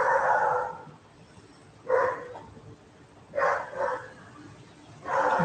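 A dog barks in bursts indoors, with about four loud, fairly close clusters of barks spread across the stretch and quieter gaps between them.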